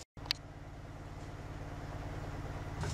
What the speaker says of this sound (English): The sound you hear in the background is my compressor.